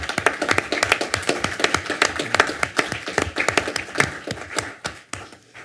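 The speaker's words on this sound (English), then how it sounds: "So I think we should give them another round of applause." An audience at a public board meeting applauds steadily, many hands clapping in a dense, continuous patter that tapers off slightly toward the end.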